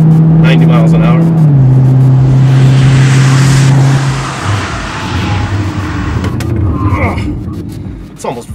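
A car brakes hard from around 90 mph, its loud steady engine and road roar at speed dropping in pitch and fading as it slows, with tire and wind noise continuing beneath.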